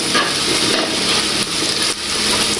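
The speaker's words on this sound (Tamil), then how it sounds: "இப்போ நல்லா கிளறி விடுவேன்." Tinned fish curry is stirred in a pan with a steady frying sizzle and wet scraping, continuous and close with small bursts of spoon movement and no talk.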